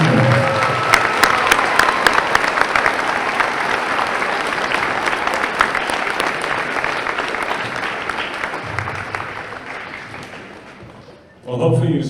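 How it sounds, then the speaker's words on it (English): A school audience at a Veterans Day assembly applauds the orchestra, chorus and band, a dense sustained wave of clapping that slowly fades before a voice resumes over it. "how about one more round of applause for our orchestra and Miss Giron, our chorus and Miss Murray"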